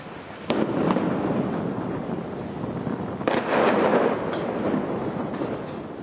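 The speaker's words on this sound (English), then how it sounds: "This just gives you a sense of the bombardment, a series of blasts a short while ago at Gaza's port" Series of explosions from bombardment at Gaza's port, sharp blasts at intervals over a constant rumbling roar, distant but loud, with no speech.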